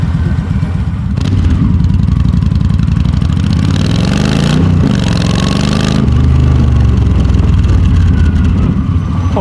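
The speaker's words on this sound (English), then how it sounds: "this exhaust sounds mean" Yamaha XVS 1300 V Star cruiser motorcycle with a loud aftermarket-sounding exhaust, riding on the road: a deep, steady V-twin rumble that swells as it revs around the middle of the clip, loud and close, with no talking.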